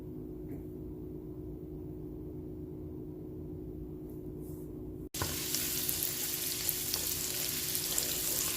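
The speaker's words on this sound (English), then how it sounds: "this butter melted so that we can go ahead and saute our delicious onions and celery" Onions and celery go into melted butter in a pan. A quiet low hum gives way to a sudden loud, bright sizzle that keeps crackling steadily while the vegetables are stirred.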